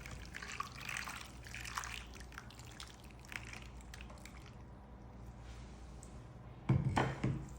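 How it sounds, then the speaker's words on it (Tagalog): Flour-thickened marinade pours onto raw chicken with wet trickling and squishing, steady and close for most of the stretch, ending in a brief louder slosh near the finish. "At ibubuhos ko na dito sa chicken para i-marinate ko siya."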